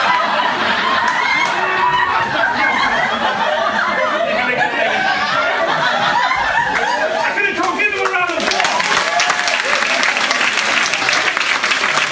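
A comedy audience at a Fringe show bursts into loud, continuous applause mixed with laughter and chatter, a thick wall of clapping that swells further near the end.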